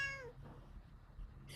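A cat meows once at the start, a short rising-and-falling call heard fairly close in a quiet indoor room, followed by faint background hum and a brief soft noise at the end.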